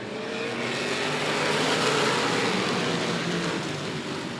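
Race cars pull away together at the green flag start of an auto race, a loud, continuous engine roar that swells slightly midway and holds steady, with no voices over it.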